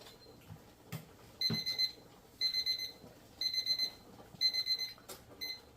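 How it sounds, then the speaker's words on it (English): A kitchen timer goes off during pressure canning of pinto beans, sounding four evenly spaced bursts of rapid, bright beeping close by, with a sharp click or two between them. "that's the 10-minute timer going off"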